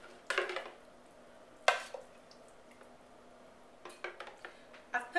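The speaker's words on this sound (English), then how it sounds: "So I'm going to start with my ladle, putting it in the blender." Ketchup mixture ladled into a blender in a home kitchen: a few short clinks and knocks of a ladle against the blender jar, with quiet gaps between them.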